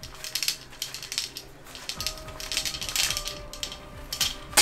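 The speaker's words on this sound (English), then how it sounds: "So that little clicking noise that you hear right here." Rapid mechanical clicking and ratcheting, a close-up series of small metallic ticks repeating unevenly throughout.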